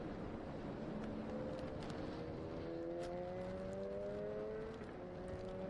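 A race car at a winter endurance series round at Portimão comes out of a corner, its engine note rising steadily and climbing in pitch as it builds speed, heard at a distance over heavy wind noise.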